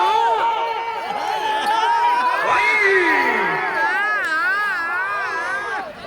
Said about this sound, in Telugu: కేకలు కేరింతలు